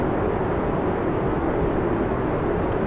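Rocket engine roaring in the game Kerbal Space Program as thrust is throttled up, a dense steady low rumble at constant loudness with no talking over it.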